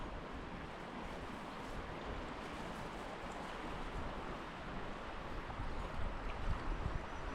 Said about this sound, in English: Indian Creek's really running good.